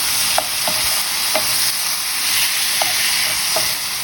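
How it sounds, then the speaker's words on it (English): Chopped tomatoes sizzle in olive oil with sautéed onions and garlic in a pan, a steady close frying hiss broken by a few soft clicks of stirring. "Next, in goes my chopped up tomatoes."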